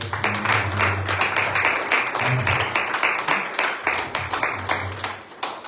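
Church congregation applauding the Lord during a worship service, loud rhythmic clapping from many hands with voices calling out beneath it.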